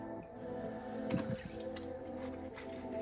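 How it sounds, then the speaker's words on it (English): Water drips and squishes as raw fish is rinsed and rubbed by hand, giving soft wet splashes over a steady low kitchen hum. "Let's wash that fish real good."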